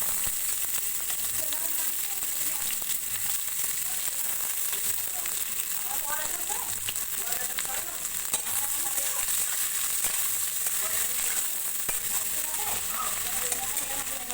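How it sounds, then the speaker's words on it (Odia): Onions frying with whole garam masala for a mutton curry, a loud continuous hiss and crackle of hot oil filling the whole stretch without pause. "ପିଆଜଟା ଭଲ ଭାବରେ ଫ୍ରାଏ କରିଦେବା।"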